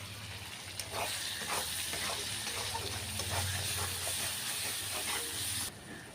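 Ground spice paste hits hot oil with browned onions for a mutton-fat ghugni, giving a steady broadband sizzle and hiss that runs unbroken for most of the clip, with a low hum beneath and a few faint scrapes.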